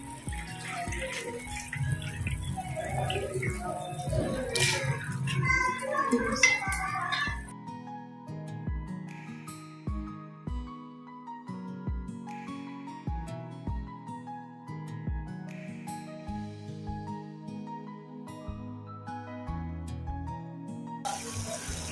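Soaked rice poured into a pot of boiling water for chicken pulao, a steady watery pouring and splashing that runs loud for several seconds, then gives way to softer bubbling with scattered clinks and light kitchen noises.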